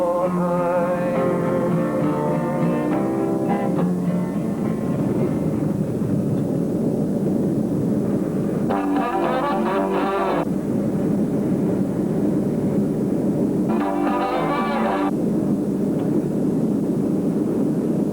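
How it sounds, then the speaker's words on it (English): Steady broad cabin drone of an airplane in flight on a 1972 trip to Nashville, Tennessee, a continuous low rushing roar throughout, with brief bursts of brighter mid-range noise rising over it twice. "here we are in a plane and we're bound for Nashville, Tennessee"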